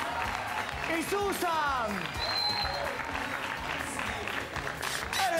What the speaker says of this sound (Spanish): Fuerte el aplauso, eso.